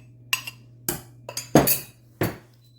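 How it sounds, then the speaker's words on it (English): A spoon stirring the last of the flour into cookie batter in a bowl, giving five sharp clinks and scrapes against the bowl at uneven intervals, close and fairly loud, with no talking. "I'm going to stir in the last half flour here."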